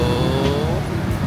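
A bus passes by on a city street, a steady close vehicle roar with a brief rising engine tone, loud and continuous for a moment.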